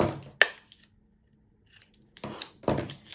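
Sharp scissor snips trim ribbon ends on a glitter Christmas ornament: one crisp cut, a quiet pause, then a cluster of closer snips, all up close with no talking.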